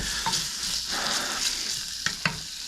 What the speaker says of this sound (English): we're gonna cook down this pork belly for a little bit